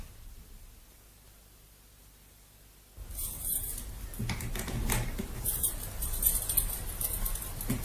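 Keys jangle and scrape while someone tries to open a car boot: after a few seconds of near-quiet, a close, busy metallic rattle and clatter starts and carries on unevenly.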